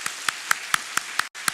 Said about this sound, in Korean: 우리 서정환 청년, 김하영 청년 우리 박수로 축하하도록 하겠습니다